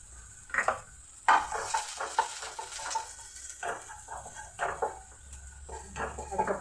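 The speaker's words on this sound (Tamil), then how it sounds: "பூண்டு பொரியட்டும்" Chopped garlic fries in two spoons of hot oil for honey chilli potatoes, soft sizzling broken by repeated scrapes and clinks of a spoon against the pan.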